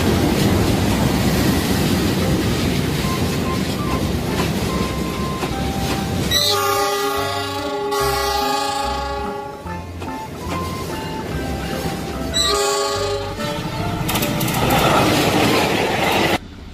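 A toy KRL commuter train runs along its track, with a steady mechanical rumble and clatter throughout and repeated bursts of electronic horn or melody tones partway through.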